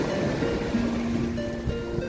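Sea waves washing in at Surin Beach on the Andaman Sea in Phuket, a steady close rush of surf with some wind noise and no voices.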